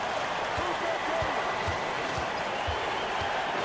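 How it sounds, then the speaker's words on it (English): A huge basketball arena crowd roars steadily through the whole stretch, a dense sustained wall of cheering with faint thumps underneath. "That shot eliciting a roar from this gigantic crowd"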